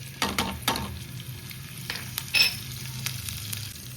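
Green chillies fry in hot oil for a tempering with a soft, steady crackle. A few sharper taps and stirring clatters break through at intervals.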